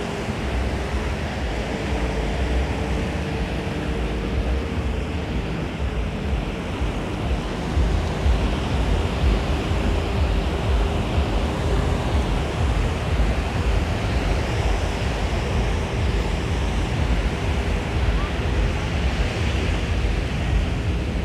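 Surf rolling onto Patong Beach in Phuket, a steady broadband wash of breaking waves with some wind buffeting the microphone, continuous and fairly loud throughout with no talk.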